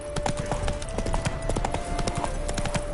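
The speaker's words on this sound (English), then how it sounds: "Spooking my horse." Horse hooves clip-clop in a steady trotting rhythm in The Witcher 3 video game, close and clear over a faint background tone, with no talk.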